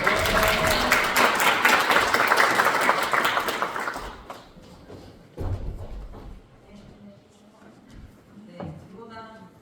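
An audience at a book talk applauds to welcome a lawmaker, the dense clapping loud for about four seconds before dropping off into scattered claps, thumps and a voice near the end.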